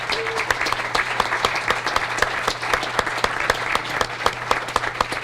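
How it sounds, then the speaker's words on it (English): People applaud at a council meeting, clapping steadily at moderate loudness with sharp individual claps standing out over a low background hum. "A round of applause for all of them."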